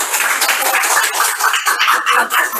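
A university classroom group in Tegal gives a short burst of applause, close, loud, brisk clapping from a small crowd of students.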